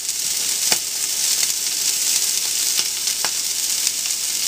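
Potatoes frying in a pan on the stove give a loud, steady sizzle with small crackles and pops throughout, close up and uninterrupted by talk.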